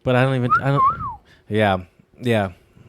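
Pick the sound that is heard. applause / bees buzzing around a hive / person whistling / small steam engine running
person whistling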